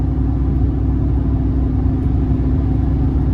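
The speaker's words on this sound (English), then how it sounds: "just the right amount of sound from the engine and the exhaust" A 2004 Chevrolet Silverado Regular Cab 4.8 V8 engine and exhaust rumble steadily and loudly, a deep low growl that holds throughout with no voices.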